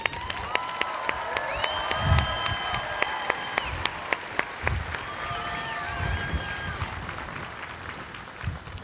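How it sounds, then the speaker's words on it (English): Audience applause at a US Air Force Basic Military Training coin and retreat ceremony, honoring the training team: sustained, fairly loud clapping from a large crowd with sharp individual claps standing out, plus a few raised voices and whistles. "I would like to ask that you give a round of applause to this dedicated team of professionals."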